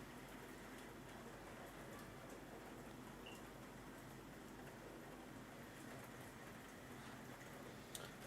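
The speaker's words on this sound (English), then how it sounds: "Oh, then the rain moved very quickly to our island." Rain falling on an island: a steady, even hiss of rainfall that holds at the same low level throughout, with no voices and only a faint tick near the end.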